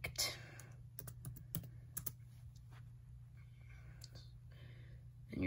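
Someone types on a computer keyboard in quiet, uneven bursts of light key clicks, faint and close, with soft pauses between them.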